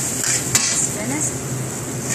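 Pad thai noodles stir-fry in a pan at a restaurant, with a continuous sizzle under metallic scraping of utensils against the pan and one sharp clink.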